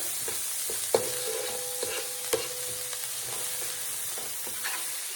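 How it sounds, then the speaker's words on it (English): Onions fry in a pan while a utensil stirs them, a constant soft sizzle broken by a few sharp clinks and scrapes. "So I'm just going to give that a little stir."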